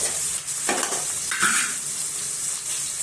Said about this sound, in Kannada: ಎಣ್ಣೆ ಒಳಗ ಮಿಕ್ಸ್ ಮಾಡಾಕನ.